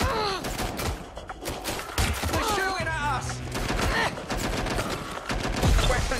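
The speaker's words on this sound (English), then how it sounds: "They're shooting at us." Rapid bursts of gunfire in the Watch Dogs: Legion video game, repeated sharp shots and volleys throughout, loud and close, with voices talking over the shooting.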